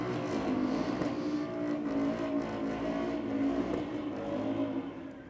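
Drag racing car warming its tyres on the strip at Sydney Dragway during diesel night, a loud sustained engine drone with wavering revs heard from some distance, fading slightly at the end.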